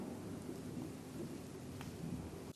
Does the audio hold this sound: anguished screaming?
no